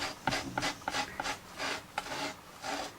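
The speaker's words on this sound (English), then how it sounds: "give it a rub with a microfiber rag" A microfiber rag rubs a rubber stamp clean after stamp cleaner is applied, making soft, close, rhythmic scrubbing strokes, quiet and with no one talking.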